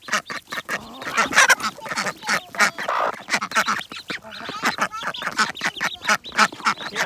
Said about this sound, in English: See if I can coax some of these little ducklings.